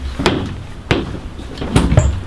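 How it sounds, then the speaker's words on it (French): A wheelchair user pushes open the door of a public building: three sharp knocks and thuds against the door a moment apart, close and fairly loud, with faint rolling and rattling between them. "Ici, je pousse dans le porte."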